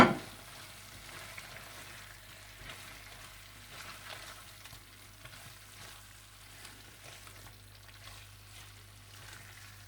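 Beef pasanday fries in a pan as chopped coriander and mint are mixed in, giving a soft, continuous sizzle with gentle stirring scrapes, quiet and close, with no talking.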